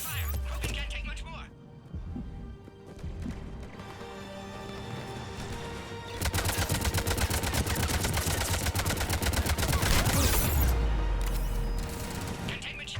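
Rapid gunfire in Mass Effect 3 combat, dense crackling bursts of automatic fire growing heavier midway, mixed with clattering impacts and voices talking through the fight.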